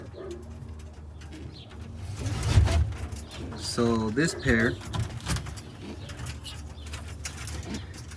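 Roller pigeons coo in a loft in soft, repeated bursts alongside bird rustling, while someone talks over them.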